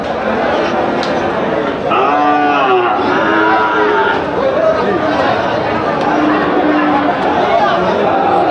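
At a weekly calf and cattle market in Kaharol, Dinajpur, a calf lets out a drawn-out moo, with further lowing from nearby animals over constant crowd chatter and people talking.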